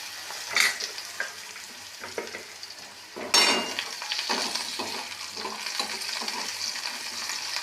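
Potatoes and garlic fry in oil in a wok, a steady sizzle that jumps louder as the potatoes drop in, with spatula scrapes and occasional clinks of metal.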